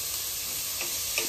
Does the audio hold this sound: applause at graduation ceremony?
no